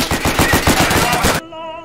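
Rapid machine-gun fire in a war video game, a steady burst of repeated shots for over a second that cuts off abruptly, leaving a faint electronic tone behind.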